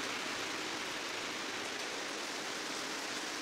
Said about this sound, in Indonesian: Sekarang turun hujan.